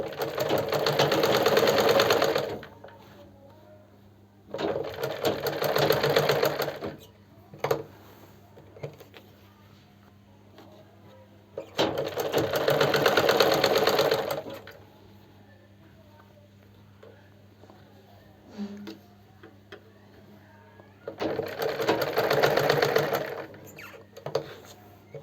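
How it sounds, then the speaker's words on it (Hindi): Sewing machine stitching along the very edge of a kurti, in three loud sustained runs separated by pauses with quiet handling noise and a steady low hum underneath. "सिलवटें हटाते हुए बिल्कुल सिरे सिरे पर स्टिच लगानी है।"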